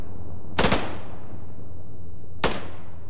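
Two loud, sharp gunshot bursts from a military shooter video game, one early and one near the end, each cracking out over a quiet low background hum.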